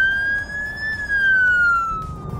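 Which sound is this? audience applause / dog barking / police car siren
police car siren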